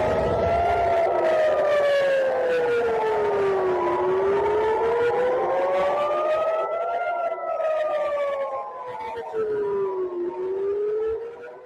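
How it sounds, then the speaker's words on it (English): Air raid sirens over Tel Aviv during a missile barrage, a loud wailing tone rising and falling in slow sweeps, with overlapping sirens echoing across the city. "Sirens sounding over Tel Aviv as a barrage of missiles hit the nation."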